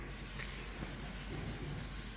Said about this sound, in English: is sanding all the red pieces.